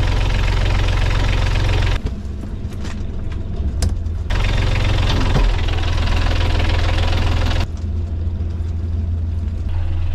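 A sailboat's engine runs steadily in forward gear, loud and close, with a constant low rumble and a knocking, vibrating texture that briefly dips and shifts twice.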